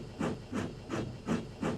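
Steam locomotive chuffing in a steady rhythm of five hissing puffs, close and moderately loud, with no voices.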